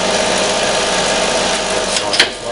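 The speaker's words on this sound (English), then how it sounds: "That'll give you a incredibly slow spindle speed" Holbrook C10 toolroom lathe spindle turning very slowly at 23 RPM in low gear, giving a steady, even mechanical whirr with a faint hum throughout and a brief click near the end.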